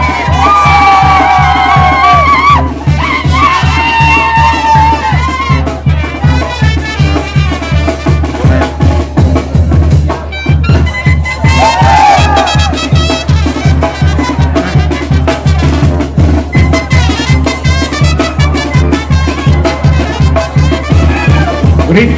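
A large crowd at the Monday Carnival of the 8 Barrios in Iztapalapa shouts and cheers loudly and continuously over pulsing, rhythmic music, with whoops and children's cries rising out of the din.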